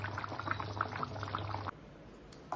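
Chicken broth with potato and papaya simmers under a lid, a steady close bubbling and gurgling that cuts off abruptly partway through, leaving a quiet hiss.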